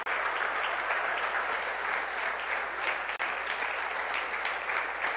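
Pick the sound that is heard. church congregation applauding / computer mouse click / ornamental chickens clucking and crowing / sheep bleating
church congregation applauding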